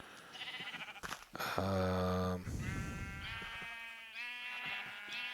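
Sheep in Minecraft bleat several times in a row, nasal wavering calls close and clear, one after another, with a single short spoken word at the start.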